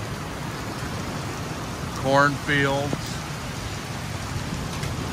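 Steady rain falling over a rural farm with dry sheep pens and cornfields, a constant close hiss of drops throughout, with a brief spoken word partway through.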